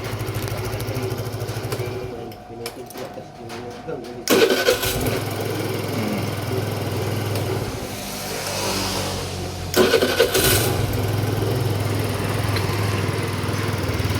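A Rusi Flex 125i motorcycle engine, its tappet just tuned up, cranks and starts, then idles steadily up close, with a second burst of revving partway through; no one speaks.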